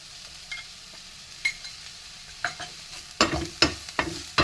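A spoon scrapes and stirs golden-brown fried onions with chilli powder and coriander powder in a pan for bread pakoda, giving a soft sizzle beneath a series of sharper scraping strokes that grow louder toward the end.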